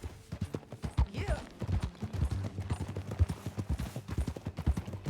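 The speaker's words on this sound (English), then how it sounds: "That a new horse?" Horse hooves clip-clop steadily in Red Dead Redemption 2, a continuous rhythmic trot close up, with faint game sounds around it.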